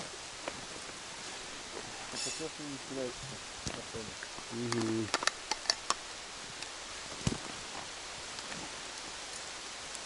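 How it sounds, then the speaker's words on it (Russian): Light rain patters steadily with scattered sharper drips, while a person murmurs briefly and faint voices come and go. "Опять дождь пошел."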